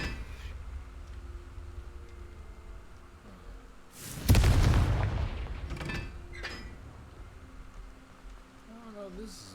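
A Confringo fire spell from the Hogwarts Legacy video game bursts in a single loud explosive boom with a rumbling tail fading over several seconds, set against quiet game ambience.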